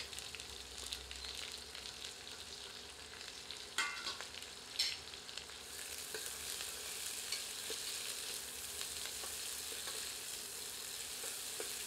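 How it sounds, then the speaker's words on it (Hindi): Chopped onions sizzling in hot oil with whole cumin while being stirred for a double-layered chicken curry, with scraping stir sounds early on and then a louder, steady frying hiss, close up and without talk. "अब इसमें प्याज सम्मिलित करके मिला देते हैं।"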